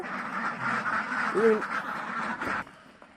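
A duck quacks once while ducks are eating, amid outdoor background noise, with people talking nearby.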